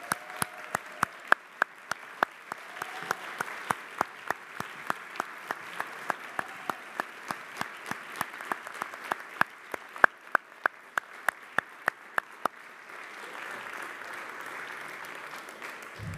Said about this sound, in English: so I'd love to give Elizabeth Guzman a big round of applause.